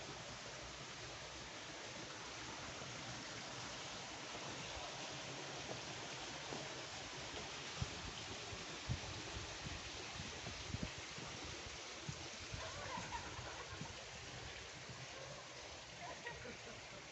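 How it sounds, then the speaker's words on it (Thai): A waterfall and stream pour steadily beside a walking path around a large pond, a dense, unbroken rush of water filling the whole clip with faint scattered clicks on top. "สียงน้ำตก"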